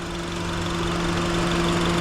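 The 2.4 liter K24 four-cylinder engine of a 2010 Honda CR-V LX idles under the open hood with a steady, even mechanical hum. It sounds close and unchanging, with no talking.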